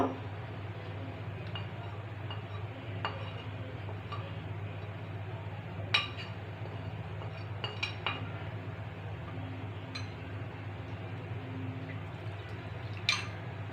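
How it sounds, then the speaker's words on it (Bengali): A spoon stirs ground spices, ginger paste and onion-garlic paste into a paste in a bowl. It makes faint, scattered metallic clinks and taps over a low steady room hum, with no talking. "এখন আমি এই সবগুলো মশলা একটি বাটিতে ঢেলে পেস্ট তৈরি করে নিব"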